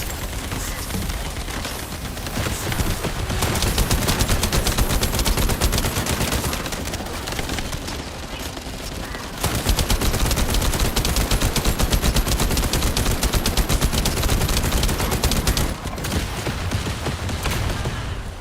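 Rapid automatic gunfire in the shooter video game The First Descendant, loud and nearly continuous bursts with brief pauses, layered with impacts and game effects.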